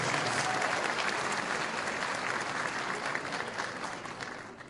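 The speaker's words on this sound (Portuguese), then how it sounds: "foi recebida com aplausos no auditório da Justiça Federal" Audience applause fills the Federal Justice auditorium in Piauí as the Chief of Staff minister arrives, a dense, steady wash of many clapping hands that holds throughout and tapers slightly at the end.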